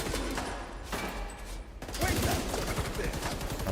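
Weapon fire in The Division 2 comes as rapid bursts of gunshots that grow denser and louder in the second half, with game sounds in the background.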